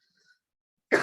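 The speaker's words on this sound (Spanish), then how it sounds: "estoy tosiendo otra vez con intensidad" A single sharp cough bursts out at the end after near silence, close and fairly loud.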